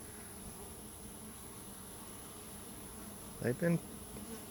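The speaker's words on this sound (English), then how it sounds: "I counted at least 60 bumblebees." Bumblebees swarm around honey set out for them in the open, giving a steady, faint, continuous buzzing with wings droning near and far. Someone speaks briefly partway through.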